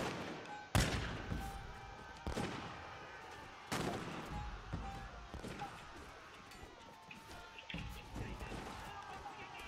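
Troops in Mount and Blade Warband fire their guns on command, giving a series of loud separate gunshot cracks at irregular intervals over battle noise, with voices in the mix.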